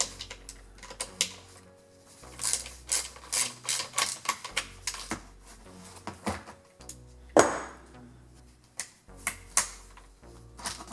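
A screw is backed out of a chainsaw handle with a Torx driver, producing close, irregular ratcheting clicks and short scraping bursts in quick uneven succession, with no talking.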